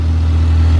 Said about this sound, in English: Motor sounds better.